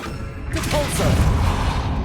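In the Hogwarts Legacy video game, a Repulso spell goes off as a sudden forceful burst after a brief quiet moment, followed by a dense rushing, crashing wash of effects that holds loud to the end.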